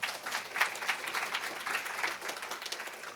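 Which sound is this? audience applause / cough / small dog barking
audience applause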